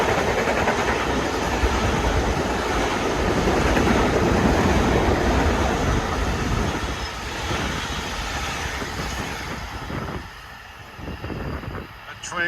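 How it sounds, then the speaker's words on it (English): A Long Island Rail Road equipment train rolls past at Valley Stream, a loud, dense rumble with wheel clatter that slowly fades as the cars go by. "That train was taking advantage of that new storage track in Massapequa."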